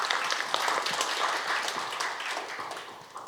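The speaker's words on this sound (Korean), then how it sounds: "박수 부탁드립니다" Audience applause at a Korean private-investment infrastructure forum, a steady, dense wash of clapping from a seated crowd that carries through the whole stretch and eases slightly toward the end, with no talk over it.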